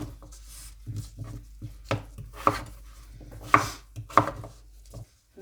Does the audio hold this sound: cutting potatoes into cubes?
yes